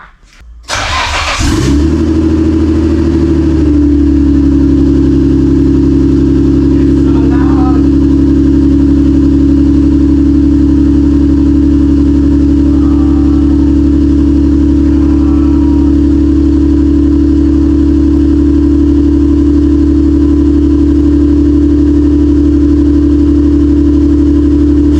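A Nissan Skyline R32 GTR fitted with a new exhaust cranks briefly, then catches and settles into a loud, steady, rumbling idle that holds close and unbroken throughout.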